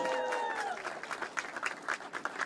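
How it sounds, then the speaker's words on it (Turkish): Guests at a wedding ceremony break into dense, continuous applause right after the bride's vows, a full crowd clapping steadily over a faint hum of voices. "Evet, alkışlıyoruz."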